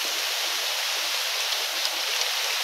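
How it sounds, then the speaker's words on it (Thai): Steady rain in a forest in Buntharik, Ubon Ratchathani, Thailand, hisses continuously, a dense even wash of noise with no pauses or voices. "เสียงฝนหึมๆมาแล้วครับ"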